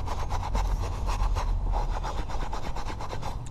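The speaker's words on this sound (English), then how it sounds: "Take our scrub brush, pull the fabric tight." A scrub brush scrubs back and forth on paint-stained fabric pulled tight, making a rapid rhythmic rasping scrape heard up close and without talk.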